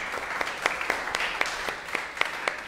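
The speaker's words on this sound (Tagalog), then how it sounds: "The best po uling palakpak para kay Jesus." A church congregation applauds in a short burst of sharp, spaced claps at a moderate level with no talking.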